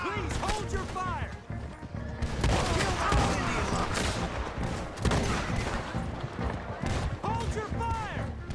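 Gunfire erupts in a Red Dead Redemption 2 battle: dense volleys of rifle and pistol shots crack near and far, with crashes and shouting voices mixed throughout the loud, continuous firefight.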